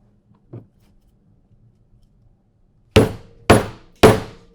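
Three sharp, evenly spaced hammer strikes ring out close by on a snap fastener setting tool over leather, each with a brief metallic decay, following a quieter small knock and near silence.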